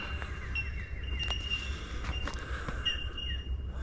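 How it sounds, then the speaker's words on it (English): Bell miner bird calls on a forested mountain hike in Queensland, a few short, bright chirps over a steady low hum of wind and ambient bush noise. "Bell miner. What's the bird? Bell miner."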